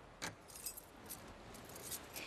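Keys jangle in a few soft metallic shakes over a steady low hum in The Last of Us Part II video game, quiet and without talk.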